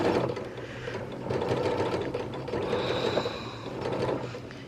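A sewing machine stitches a seam out toward the pocket on a shirt dress, running in loud, close bursts of rapid mechanical whirring that rise and ease as the speed changes.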